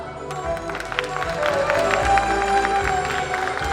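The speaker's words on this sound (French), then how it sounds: "Je vais vous demander d'applaudir Barbara." Applause rises from the audience at a cosplay contest show during a game convention, a steady wash of clapping that swells and holds, with some background crowd noise and faint murmuring.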